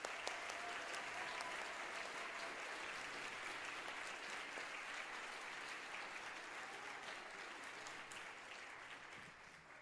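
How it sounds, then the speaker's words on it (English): An audience gives steady, dense applause after a 5th grade school orchestra concert, a continuous wash of clapping that holds for about ten seconds before easing slightly at the end. "Can we give them another round of applause?"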